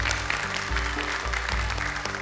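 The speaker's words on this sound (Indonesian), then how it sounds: "tepuk tangan untuk mereka semuanya." An audience applauds in the studio of the Indonesian television Quran-recitation competition Hafiz Indonesia 2021, a dense, steady wash of clapping over low, droning music.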